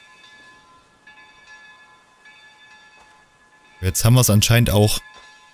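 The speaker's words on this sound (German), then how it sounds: "Jedenfalls läutet die Kapelle." A chapel bell rings in the horror game Mundaun, with faint sustained metallic tones lingering across the scene, then someone speaks German over it briefly.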